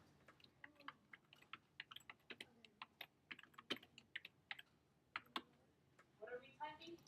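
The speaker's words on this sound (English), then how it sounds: "What are we typing?" Fingers tap out text on a computer keyboard in a quiet room, a quick uneven run of close, crisp key clicks with short pauses between bursts.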